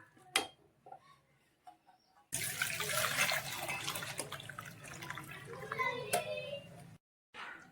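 After a few faint clicks, water drained from a pot of cooked broccoli pours and splashes steadily for several seconds, then stops abruptly.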